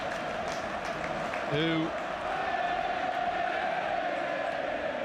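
Steady roar of a football stadium crowd at a Premier League match between Manchester City and Chelsea, a continuous wash of noise with a brief whistle-like tone and commentary over it.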